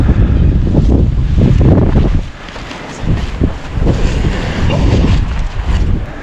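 Gusty outdoor wind blusters across the microphone in heavy surges, dropping briefly before picking back up.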